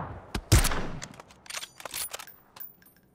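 Gunfire in the battle royale game PUBG: a sharp close shot followed by a scattered run of bursts and single cracks, some near and some farther off, with no talk.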